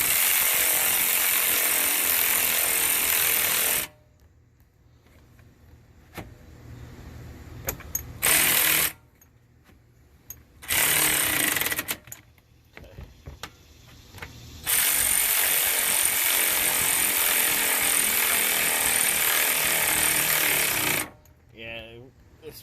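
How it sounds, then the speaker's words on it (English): A screw being driven with a power tool into a new, unthreaded radiator on a 2005 Dodge Durango, cutting its own thread: loud sustained whirring bursts of driving, separated by quieter pauses, with several short runs and a final long one. "So you're going to kind of force the screw in to make its own thread."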